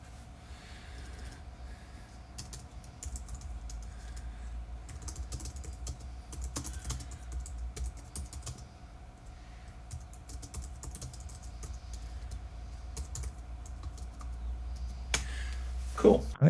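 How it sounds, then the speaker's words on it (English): Typing on a Logitech MX Keys Mini wireless keyboard, a steady run of soft, quick key clicks close by with faint background hum and a louder knock near the end. "this keyboard is actually really easy to type on, really smooth"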